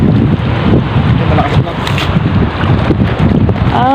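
Strong south wind at sea roars and buffets a fishing boat, a loud continuous rush with a short voice near the end.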